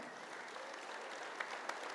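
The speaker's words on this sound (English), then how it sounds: "please give him a big round of applause." A room full of members at a gathering applauds a board president, steady crowded clapping throughout with a couple of sharper claps standing out near the end.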